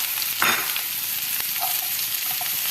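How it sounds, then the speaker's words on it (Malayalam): Mustard seeds and chopped shallots spluttering and sizzling in hot oil for a Kerala jackfruit erissery, a steady close frying crackle with a few sharper pops, no voices. "അതിലേക്ക് കടുക് ഇട്ട് പൊട്ടിക്കണം."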